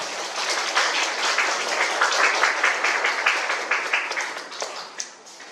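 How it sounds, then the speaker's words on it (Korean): An audience at a hospital health lecture for cancer patients gives a big round of applause to welcome the hospital director, dense clapping that holds strong and then thins near the end. "큰 박수로 맞이해 주시면 됩니다"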